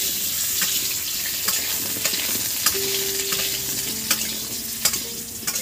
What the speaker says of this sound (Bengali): আলুগুলো একটু আমরা হালকা লাল লাল করে ভেজে